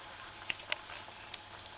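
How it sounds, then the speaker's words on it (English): Pork and peppers fry in hot oil with a faint, steady sizzling hiss. A few sharp pops and crackles break through it, heard close and alone. "It's been 4 minutes. Just frying away."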